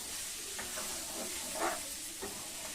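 Mutton pieces fry in a pan with a steady, close sizzle and hiss, with a few soft stirring scrapes and bumps along the way, and nobody speaking.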